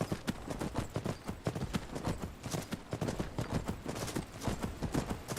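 Horse hooves clip-clopping in a fast, steady riding rhythm in a video game, close and continuous with no talking.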